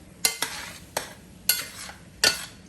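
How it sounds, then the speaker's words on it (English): A metal spoon scrapes across the bottom of a stainless steel pot with the browned fond of a pastalaya dish, giving five short, bright scraping strokes spaced irregularly, close and fairly loud with no talking. "You do want to scrape up the deliciousness from the bottom of the pan"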